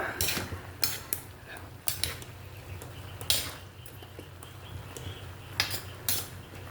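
Bottle gourd and pork are stirred in a pan for a Filipino ginisang upo, giving scattered close clinks and scrapes of a utensil against the pan over a faint low sizzle.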